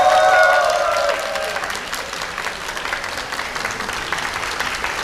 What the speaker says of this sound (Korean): 자, 하객분들 박수 한번 쳐주세요.